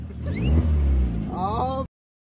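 A car engine revs hard and accelerates, a loud, steady roar rising in pitch over about two seconds, with voices and other sounds mixed in before it cuts off abruptly.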